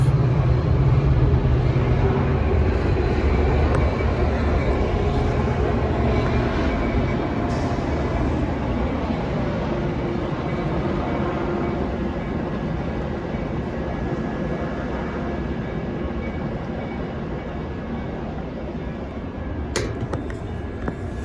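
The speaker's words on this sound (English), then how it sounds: "This train's going to go by in a minute." A train rolls past in a long continuous roar of wheels and cars, loud at first and slowly easing, with a sharp metallic squeal near the end.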